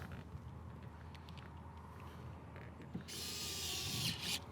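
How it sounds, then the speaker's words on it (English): Screws are driven back into a 2013 Subaru BRZ Premium interior panel with a small power screwdriver, a single steady whir rising near the end after quiet handling noises and faint clicks, close and alone. "go ahead and reinstall our screws"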